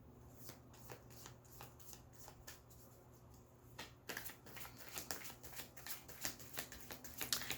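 Cards being shuffled for a draw, a run of crisp riffling bursts in a quick uneven rhythm, growing louder and busier in the second half, close and quiet with no talking.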